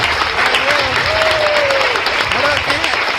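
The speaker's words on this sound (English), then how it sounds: "We're going to clap it up for her, too." Loud, dense applause from a studio audience on a courtroom reality show as a guest is escorted in, with a voice calling out over the clapping.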